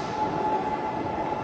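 A shuttle train at Incheon Airport between terminals gives off a steady, loud rumble with a faint sustained whine running over it, and no one speaks.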